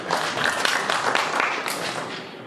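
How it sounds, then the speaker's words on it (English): Audience applause for a project leader at a bank partnership event, a short dense burst of many hands clapping that fades toward the end. "I think we give him a clap"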